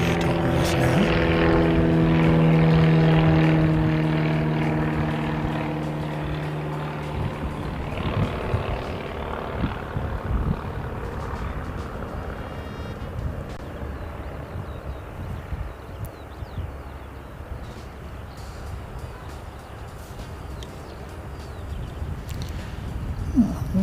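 Aero Club light propeller aircraft take off overhead, the engine drone loud at first as one climbs away, then fading into a fainter, rougher distant rumble.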